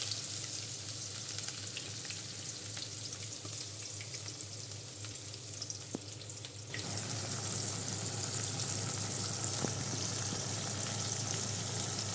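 Loitta (Bombay duck) fish frying in a pan, a steady, dense sizzle that runs throughout and grows louder and brighter about halfway through, with no talking.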